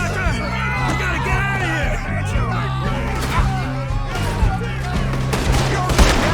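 Rapid gunfire volleys crack out in Red Dead Redemption 2, mixed with shouting voices, crowd noise and a musical score, the shots loud and close.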